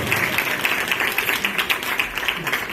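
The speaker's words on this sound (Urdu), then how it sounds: "زوردار تالیاں" Applause rising from a church congregation during a sermon, a steady wash of many hands clapping at moderate loudness throughout, with no clear voice over it.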